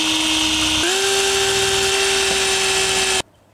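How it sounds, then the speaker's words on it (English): A power drill bores screw holes through metal freshly coated in Hammerite paint, a steady loud whine that shifts up in pitch about a second in, then stops abruptly. "let's get these holes drilled"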